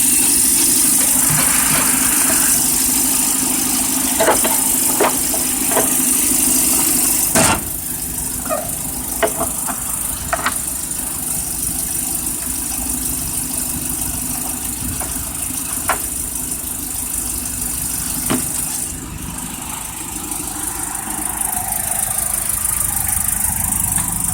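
A 1980 Land Rover 109 engine runs steadily while the vehicle drives, a loud continuous mid-pitched drone with occasional rattles and clunks from the body, recorded close and without talk.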